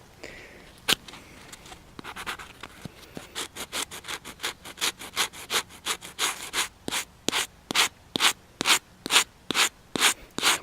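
Sandpaper is rubbed back and forth to strip the coating from an Izula-II knife, making close, rhythmic raspy strokes that grow steadier and louder as they go on, with no talking.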